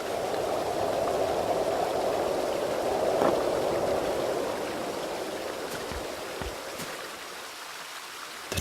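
Steady broadband rush of a flowing stream in The Dark Eye: Chains of Satinav adventure game, a continuous mid-level wash of water that thins slightly toward the end, with a few faint clicks and no talk.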